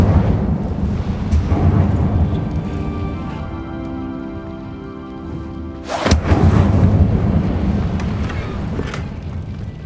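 A booming magical fire blast from the Incendio spell in the Hogwarts Legacy video game rumbles with deep thuds, followed by a sharp, loud burst around the middle and a roaring tail.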